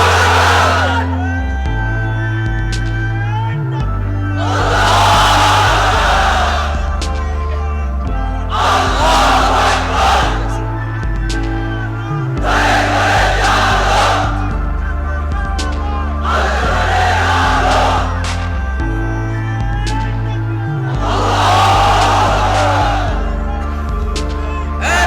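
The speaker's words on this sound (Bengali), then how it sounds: "এবার অবিবাহিতরা দাও লিল্লাহি তাকবীর" A large crowd of unmarried men at an Islamic religious gathering roars the takbir in unison, massed shouted chants rising and falling in regular waves over a droning sound system, loud and reverberant.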